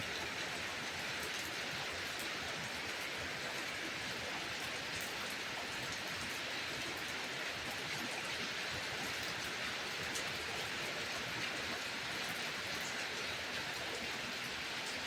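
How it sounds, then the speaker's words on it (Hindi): Heavy monsoon rain pours down steadily in Pauri, a dense, loud hiss of drops that never lets up for the whole stretch, with no voices. "बहुत ही भयंकर बारिश लगी हुई है।"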